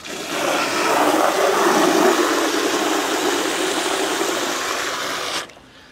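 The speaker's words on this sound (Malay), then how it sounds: "So, isi air dalam baldi ni." Water from a hose pours steadily into a bucket beside a pond, a loud continuous broadband splashing rush that holds for about five seconds before cutting off abruptly, leaving quiet.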